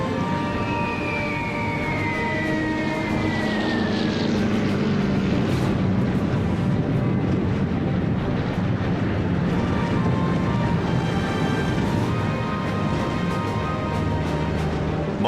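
US Air Force aircraft attacking German positions in winter produce a steady, loud, rumbling engine drone with rising and falling tonal whines and distant booming underneath, continuous throughout.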